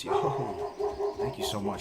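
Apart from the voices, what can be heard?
dogs barking at a contractor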